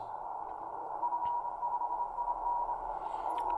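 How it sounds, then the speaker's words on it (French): Morse code picked up on an XHDATA D-808 portable shortwave radio in the 7 MHz band: a steady high tone keying over a constant bed of receiver hiss, with no voices. "capter par exemple, comme vous entendez ici, du morse"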